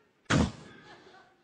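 A voice mimics a car door slamming shut: one sharp, loud thud followed by a short, fading resonance.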